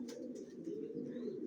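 Racer pigeon chicks in a loft keep up a soft, continuous cooing, a warm low burble from a few nearby birds with faint higher chirps above it and no speech.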